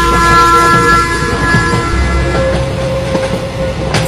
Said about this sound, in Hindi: ट्रेन तो अपने आप चलने लगी।